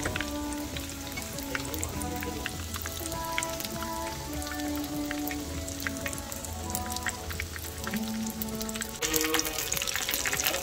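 Chicken keema samosas deep frying in hot oil give a steady, close, dense sizzle and crackle that runs unbroken throughout, with no voices.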